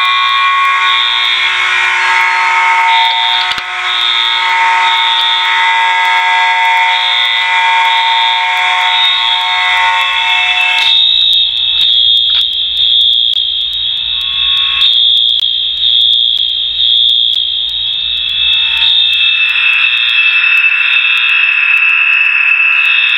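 Fire alarm system in a Roblox game sounding a loud code 3 tone: a harsh, continuous electronic alarm pulsing in repeated cycles of three, filling the whole stretch with a brief change in tone partway through.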